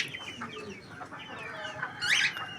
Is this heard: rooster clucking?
yes